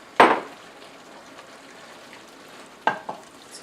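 Carrots and green beans stirred in a shallow pan give two short scraping, sizzling bursts separated by a quiet pause.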